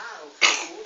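A single short, sharp sneeze bursts out indoors after a stretch of quiet breathy background, close and fairly loud.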